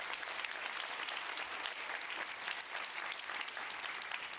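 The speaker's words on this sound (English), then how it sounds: "Could you please give very warm applause to these good speakers?" Audience applause for speakers at a conference session, a continuous even wash of many hands clapping, steady and fairly distant, sustained without breaks.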